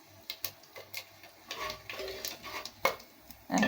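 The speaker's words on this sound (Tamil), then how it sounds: "பாருங்கள், பொரியுதுங்க. இப்படி நல்லா பொரியணுங்க." Whole spices, cinnamon, cloves and fennel seeds, crackle and splutter in hot oil for mutton kuzhambu, with scattered sharp pops and sizzling bursts that thicken toward the end, close and fairly quiet.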